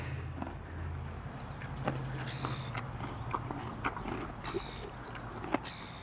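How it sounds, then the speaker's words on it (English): A horse eats two carrots, with several crisp crunching bites and soft chewing close by, a few light clip-clop-like knocks scattered through. "It doesn't take long for 2 carrots to be gobbled down."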